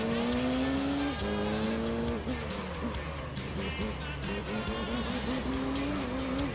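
A Dodge Viper races in the video game Gran Turismo 3, its engine note rising and dropping through gear changes alongside tire squeal, loud and continuous throughout, with a voice talking over it.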